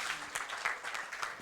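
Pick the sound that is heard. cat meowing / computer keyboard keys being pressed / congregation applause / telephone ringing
congregation applause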